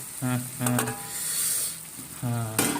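Local free-range chicken sizzles in a pan while being stirred for an Assamese-style curry, with a voice speaking briefly in short bursts over the frying.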